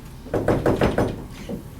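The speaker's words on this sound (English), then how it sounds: "Somebody's at the door, John." A run of five sharp knocks on a door at a steady, quick rhythm, close and fairly loud, followed by a fainter single knock after a pause, set in an old radio comedy scene.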